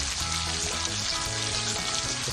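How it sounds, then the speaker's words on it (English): An egg fries in a pan heated by the sun on Koh Samui, giving a steady, dense sizzle that crackles evenly throughout, close up and with no talk. "It's hot enough in the sun to cook an egg."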